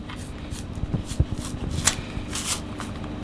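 A slightly unripe, firm banana being peeled by hand: soft rustling and light tearing scrapes of the skin, close and continuous with a few sharper snaps.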